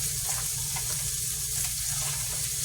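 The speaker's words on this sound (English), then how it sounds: "I'm going to go ahead and put that bacon into it so it can get heated up as well" Already cooked bacon added to browned meat in a hot pan, sizzling and frying in a steady, dense crackle with light stirring, close and continuous, no talk.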